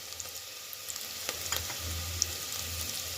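Onions frying in a pan for sprouts curry as chili, turmeric and coriander powders go in, giving a steady close sizzle with light stirring scrapes and no talk.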